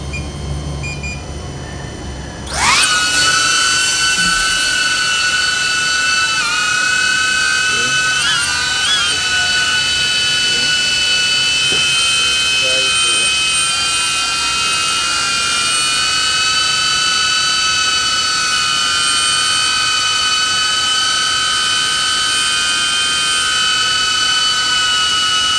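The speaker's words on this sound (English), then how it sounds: "So this is the HQProp 5-bladed propeller. We just test this and see how it sounded." A DJI Avata drone fitted with HQProp 5-blade propellers spins up and hovers nearby, a loud steady whine with strong tonal harmonics that holds evenly after a sudden start.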